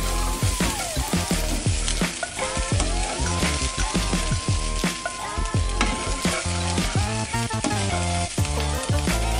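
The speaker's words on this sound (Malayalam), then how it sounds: "എണ്ണ ചൂടാകുന്ന സമയത്ത് കുറച്ച് സവാള അങ്ങോട്ട് ഇടുവാണേ" Sliced onion sizzles and crackles in a little hot coconut oil in a pan, a loud, dense, continuous frying hiss with irregular popping, stirred close up, no talking.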